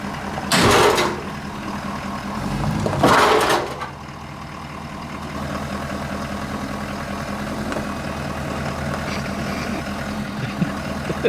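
A truck engine idles steadily while hooked up to pull on a Toyota BRZ car frame, a low even rumble held throughout, with two louder bursts of noise near the start.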